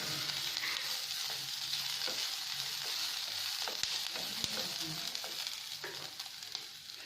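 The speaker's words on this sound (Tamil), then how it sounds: "இப்போ ஒரு ஃபுல் பூண்டை உரிச்சு வச்சுருக்கேன், இதை நம்ம இது கூட ஆட் பண்ணிக்கலாம். இதையும் போட்டு நல்லா மிக்ஸ் பண்ணி விட்டுக்கோங்க." Peeled garlic cloves frying in a pan with chicken for a mutton-style chicken fry, a constant bright sizzle with occasional scrape and stir knocks, alone and fairly close.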